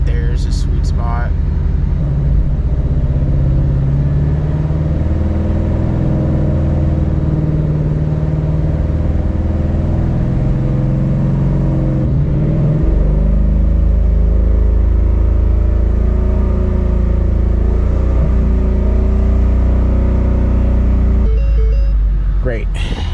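A Mustang engine holds a steady idle-like drone near 1500 RPM, a continuous low rumble heard from inside the car, with a person talking over it.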